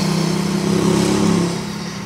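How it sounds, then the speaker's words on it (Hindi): Heavy motorcycles revving and passing close by on a sunny Sunday in Italy, a steady loud engine drone that swells and then fades slightly toward the end. "और भी अभी पीछे से आ रही हैं बाइक्स"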